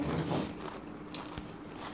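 Someone bites into crunchy golgappa (pani puri) up close, a soft crunch and chewing with a couple of faint clicks over a noisy household background.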